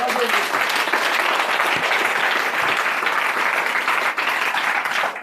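A church congregation at a Thursday morning preaching service applauds loudly and continuously, dense clapping filling the room with crowd voices mixed in.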